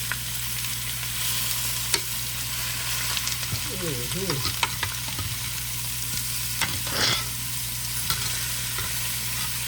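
Steak sizzling on a grill pan while being cooked for Sunday dinner, a steady close frying hiss throughout with a few brief clatters and scrapes, no talking.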